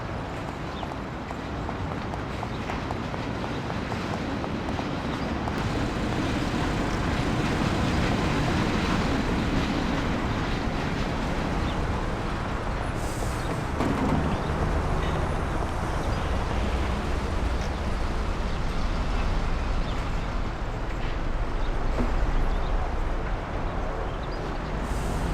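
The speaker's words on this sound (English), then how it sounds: "We'll take the train." Train ride in the video game Mafia: The City of Lost Heaven, a steady loud rumbling and clattering of the rail car rolling along without pause, with no talk over it.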